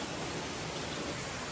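Steady rain falls outdoors at a campsite, a dense even hiss with no pauses or voices, moderately quiet and constant across the short stretch.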